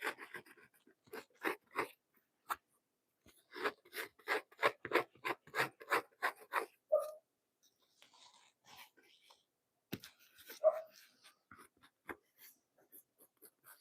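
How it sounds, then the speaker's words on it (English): A surface is scraped in a workshop in a run of short, rhythmic rasping strokes, then quieter scattered scrapes after a pause, with brief talk mixed in. "Maybe scraping is the best solution"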